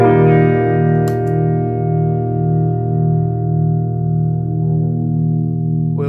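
An electric guitar plays through Bo's harmonic tremolo/delay pedal with the mix turned up, a single sustained note pulsing in slow, even tremolo waves with delayed repeats, loud and alone.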